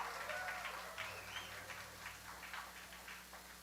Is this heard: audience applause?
yes